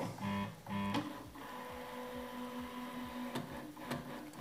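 A Prusa MK4 3D printer testing its axes, its stepper motors giving buzzing, tonal whines and rapid movement noises, with short clicks and shifts in pitch, close and fairly quiet.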